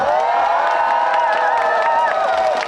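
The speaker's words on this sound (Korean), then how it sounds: "큰 박수 한번 치겠어요" A big crowd at a fig festival in Yeongam cheers, whoops and applauds loudly and continuously for a singer on stage, a dense wall of voices close and full.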